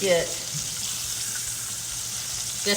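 Pork chops fry in a pan, a steady close hiss and sizzle of hot oil, briefly louder at the start and end, with faint talk beneath.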